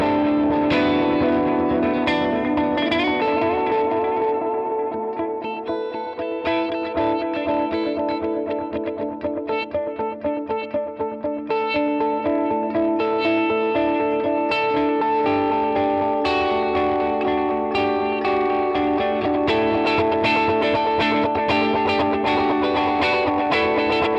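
Electric guitar played through an AmpliTube 5 Fender amp model with compression switched on, a sustained, evenly loud strummed and picked passage with slightly dirty grit, shimmering chorus-like effects and reverb, alone without talk.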